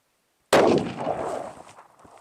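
A single loud rifle shot with 7mm PRC factory ammunition cracks sharply out of silence, then echoes and decays over the next second and a half.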